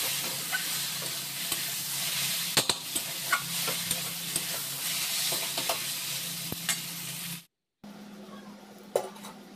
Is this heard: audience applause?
no